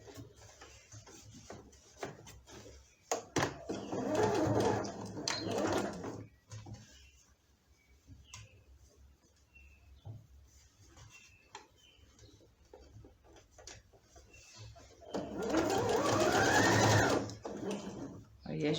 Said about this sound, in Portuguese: a gente volta e continua a costura